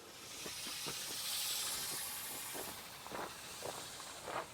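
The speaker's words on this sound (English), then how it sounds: "I'm bleeding the air now out so I can put more fluid in." A steady, faint hiss of air bleeding out of a rear tractor tire during fluid ballast filling runs throughout, with a few soft clicks and knocks in the background.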